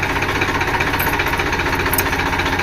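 Loud, steady generator engine drone with a rapid pulsing throb, close by and unbroken, no voices.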